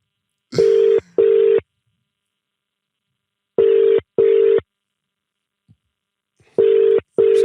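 A telephone ringback tone sounds as paired buzzing pulses, three double rings spaced about three seconds apart, loud and clean with silence between them.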